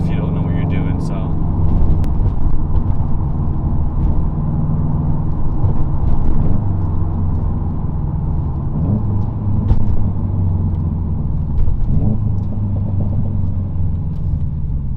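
A manual-transmission car engine hums and rumbles up close, its pitch climbing and dropping repeatedly as it pulls through rev-matched gear changes, with a steady drone throughout.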